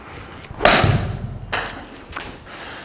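Golf ball struck with a loft wedge indoors at a launch monitor: one sharp thud of the impact, followed by a couple of softer knocks.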